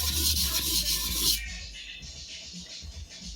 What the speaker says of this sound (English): So I'm sharpening this right now.